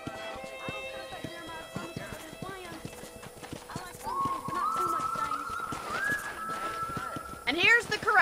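Horses trotting at a ranch corral in Red Dead Redemption, steady close hoof clops with a whinny near the end. Tonal music plays alongside, and someone is talking over them.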